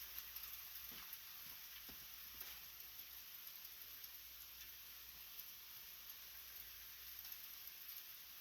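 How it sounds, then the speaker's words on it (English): Rain mixed with sleet falls steadily outside, a faint, continuous hiss with a few soft taps, heard alone without talk. "Rain mixed with sleet and possibly snow."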